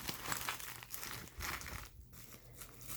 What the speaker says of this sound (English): I'm gonna unwrap this.